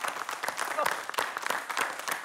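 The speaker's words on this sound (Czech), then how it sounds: "dámy a pánové, potlesk pro Libora Boučka" Audience applause for Libor Bouček at a comedy show, a brisk burst of mixed claps with scattered loud hits and faint voices underneath.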